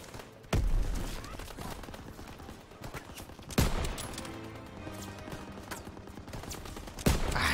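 Gunfire in the Call of Duty: WWII Operation Cobra battle, with heavy bursts striking at intervals over a dense, continuous din of combat, loud and close, no talking.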